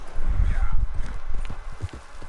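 Horses galloping in Red Dead Redemption 2, a loud, close drumming of hooves in quick irregular beats, with a brief whinny-like tone early on.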